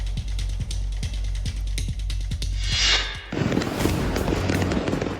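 Fireworks go off in the sky over California: a fast, evenly spaced run of deep thumping bursts, then a hissing swell and a loud, noisy crackling spread close by.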